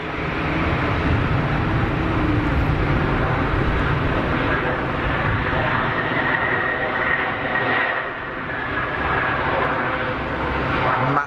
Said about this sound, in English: Massive armful of reverser.